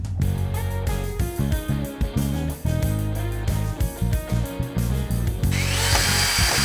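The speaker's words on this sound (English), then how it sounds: "I'll screw this back in. I'm using some decking screws." A power drill drives 6 cm decking screws into a wooden fence, with a steady close whine, repeated stutters and grinding as each screw bites, and a brief rise in pitch near the end.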